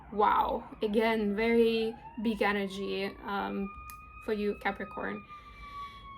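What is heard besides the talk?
emergency vehicle sirens passing outside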